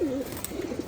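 Pigeons cooing close by, a soft low rolling coo repeating through the short moment with no talk over it.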